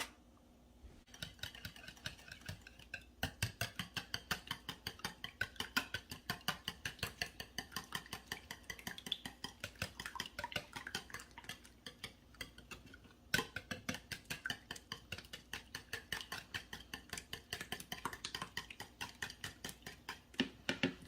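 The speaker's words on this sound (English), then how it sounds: "I'm gonna get my whisk, and we're gonna whisk this together really quick" A whisk beats peach recipe ingredients together in a bowl, a fast steady run of rapid clicking taps close by with brief pauses, no talking.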